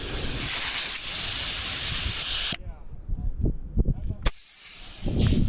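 Air rushes from an off-road truck's tires while they are let down for snowy Colorado trail driving, a steady loud hiss that breaks off for a moment and then resumes, with faint thumps in the gap.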